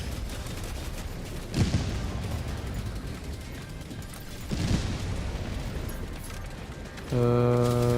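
Heavy machine gun fire in the Helldivers II video game, heard as a dense, sustained rattle of fire with two heavier booms standing out, ending in a sharp tonal game sound.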